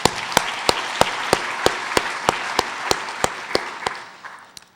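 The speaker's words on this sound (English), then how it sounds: "let's give a round of applause for them" Audience clapping in an auditorium at a city State of the City address, a thin scattering of hands with steady claps that fade out toward the end.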